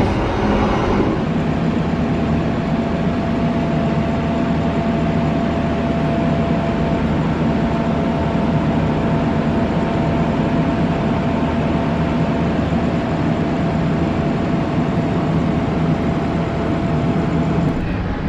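Continuous loud rumble and rattle of the long Jayakarta passenger train running along the rails, heard from inside with a faint steady hum.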